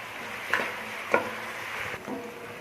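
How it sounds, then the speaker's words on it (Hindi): Chopped onions fry in hot oil in a pan with a steady, moderate sizzle, broken by a few sharp stirring scrapes. "प्याज को हमने 2 मिनट फ्राई कर लिया है"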